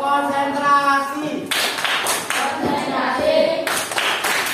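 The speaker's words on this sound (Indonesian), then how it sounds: "Tepuk konsentrasi." A classroom of students performs a rhythmic concentration clap, several bursts of group hand clapping in patterned sequence, loud and close, following an opening stretch of chanting voices.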